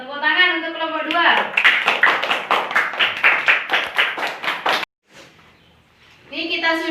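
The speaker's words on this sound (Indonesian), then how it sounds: "Tepuk tangan untuk kelompok 2." A third-grade class claps for group 2 in a steady, rhythmic pattern of about a dozen sharp, close claps. A voice speaks just before the clapping begins and again after a short pause at the end.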